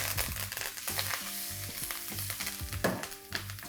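Mustard seeds, cumin, asafoetida, green chilies and curry leaves crackle and sizzle in hot oil for an Indian dalia vegetable upma, loud and close, with steady frying hiss under a repeating musical backing.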